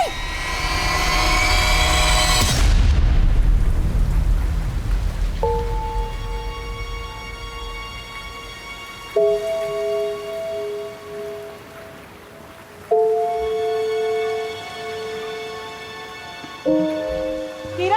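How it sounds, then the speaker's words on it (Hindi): Heavy rain at night, a dense loud hiss that starts strong and then carries on under sustained droning tones that shift in pitch several times. "बहुत बारिश हो रही है।"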